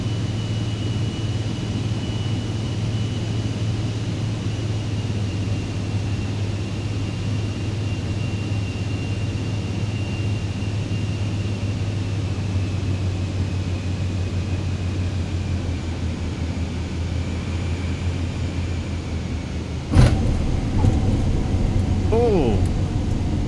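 A simulated airplane landing in Microsoft Flight Simulator 2020 gives a steady engine and airflow drone that runs throughout, with a sharp thump of a hard touchdown near the end followed by rumbling.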